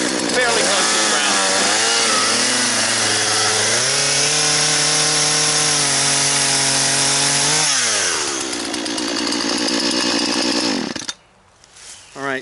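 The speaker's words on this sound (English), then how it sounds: "Now I'm going to clear it away and use the chainsaw." Chainsaw cutting invasive plants close to the ground, a loud, close, continuous engine roar that shifts pitch as the cut bears down, then stops abruptly near the end.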